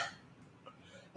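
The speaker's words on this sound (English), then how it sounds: "So excuse me if I'm coughing." A single short cough near the end, close and brief, after quiet room noise during a salmon bowl mukbang.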